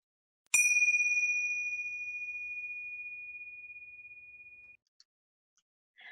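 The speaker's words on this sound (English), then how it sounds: "So added Tinsha bell." A single tingsha bell, a small pair of meditation cymbals, is struck once, and a clear, bright ring sustains and slowly fades for about four seconds in an otherwise silent space, followed by faint small clicks.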